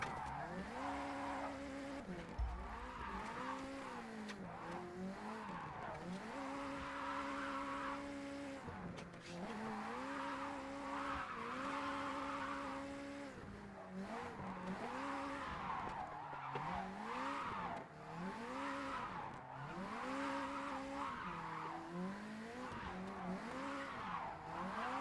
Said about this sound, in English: just try to get a bunch of high-speed drifts